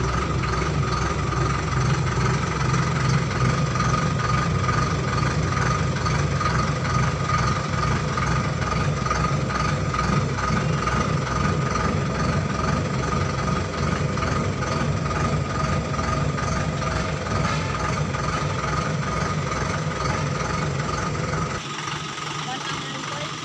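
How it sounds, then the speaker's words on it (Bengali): Eicher Ecomet 1012 dump truck engine running steadily as the tipper body lifts, a constant low diesel drone at close range that cuts off near the end. "দেখুন আমার গাড়ির টিপারটা আস্তে আস্তে উপরে উঠছে।"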